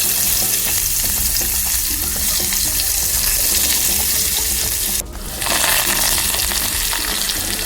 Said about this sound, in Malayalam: അതിനുവേണ്ടി കുറച്ച് വെളിച്ചെണ്ണ ഒഴിച്ചിട്ടുണ്ട്. ഇതിലേക്ക് നമുക്ക് കടുക് ഇട്ട് കൊടുക്കാം.